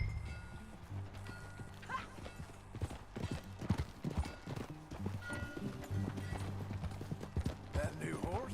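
Horse hooves clip-clop at a steady walking rhythm in the video game Red Dead Redemption 2, close and distinct, with a brief whinny and people talking over the hoofbeats.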